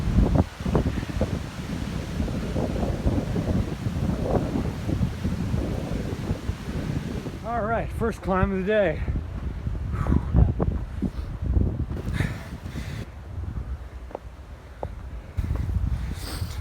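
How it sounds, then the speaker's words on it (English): Constant low wind rumble buffeting the microphone throughout, on a windy day at a hiking trailhead, with a person speaking briefly partway through. "it's pretty windy today already"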